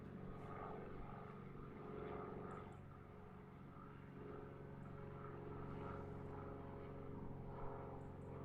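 An aerobatic propeller plane flies safety maneuvers at an aerobatics championship. Its engine drones faint and distant, rising and falling gently as it climbs and turns.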